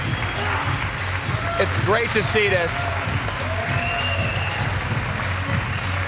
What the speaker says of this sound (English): Every single person in here is giving Cliff Swain a standing ovation.